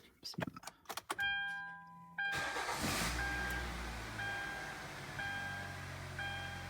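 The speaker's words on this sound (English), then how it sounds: "So I'm gonna try to turn on the car" A few short warning chimes, then an SUV engine cranks and catches, settling into a steady idle rumble while soft beeps repeat in the background.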